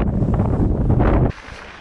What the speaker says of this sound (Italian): Qua è una battaglia senza quartiere contro il vento.